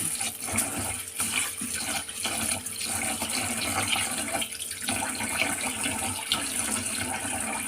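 Glutinous rice being washed in water in a container, with steady sloshing and swishing, moderately quiet and continuous, occasional stirring surges.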